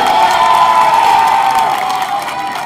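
A large crowd at a political rally cheers and shouts continuously, a loud dense roar of many voices with whoops rising over it and fading slightly toward the end.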